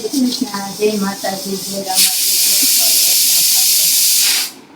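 A kitchen pressure cooker releases a loud, steady hiss of steam lasting a couple of seconds before cutting off, following brief conversational speech at the start.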